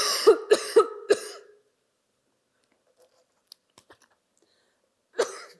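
A man coughs four times in quick succession, loud and close, followed by a quiet pause with faint small clicks and then one more cough.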